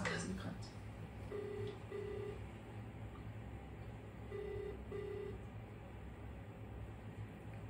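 A phone call being placed gives a faint ringback tone, two pairs of short, even beeps with a pause between, over a quiet hiss of background noise.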